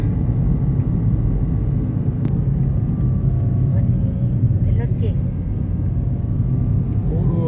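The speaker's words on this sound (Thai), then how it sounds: "เราใช้ยานพาหนะ เป็นโตโยต้ายาริสนะคะ" A Toyota Yaris climbs a winding mountain road, its engine giving a steady low rumble with road noise throughout, while someone speaks over it.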